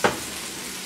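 Butter melting across a hot skillet, a brief loud sizzle burst at the start settling into a steady, close frying hiss.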